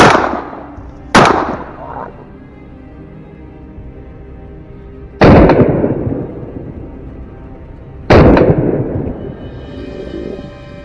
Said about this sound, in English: A clean, sharp shot rang out.